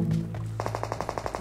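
Gunfire in a battle royale video game: a rapid burst of automatic shots, evenly spaced and moderately loud, following a brief low rumble, with no talking.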